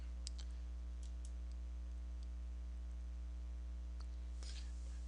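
A few sharp, faint computer mouse clicks near the start and end over a steady low electrical hum, spaced irregularly with quiet gaps between, no talking.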